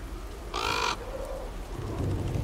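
A single loud, harsh crow caw rings out in the video game Soulstice, followed by a softer trailing call and low rumbling ambience.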